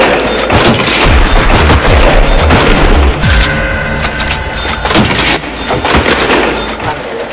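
Loud, rapid machine gun bursts from World at War zombies mode, repeated heavy gunfire with booming impacts in quick succession, briefly pausing midway before firing resumes.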